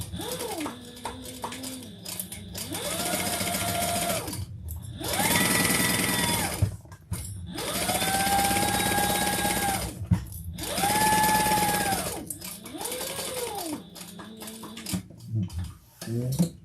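Sewing machine stitching a leather tote with spruce thread, running in several long bursts of steady motor hum separated by short pauses, close and fairly loud, with a voice talking in the gaps.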